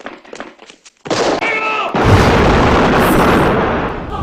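Gunfire in a film recreation of a revolutionary-era shootout, with a few sharp shots at first, then a heavy burst of continuous shooting and loud rumbling that stays dense until the end.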